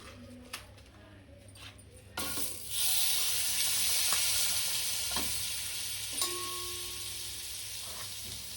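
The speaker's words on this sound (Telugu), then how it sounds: "ఇట్లా డీప్ ఫ్రై చేసుకోవాలి ఉల్లిగడ్డ" Onions deep fry in hot oil for a butter chicken, a quiet start with a few clinks giving way to a loud, steady sizzling hiss that slowly settles, broken by an occasional utensil knock and a brief tone.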